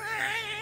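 A cartoon cat meows in a single short, bright, wavering cry during a cutscene of the South Park video game The Fractured But Whole, heard alone and up close.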